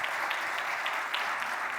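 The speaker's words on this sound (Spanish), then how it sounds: "un fuerte aplauso para ella, por favor" Applause from a conference audience for a speaker on biometric technologies in cybersecurity, a short steady burst of clapping.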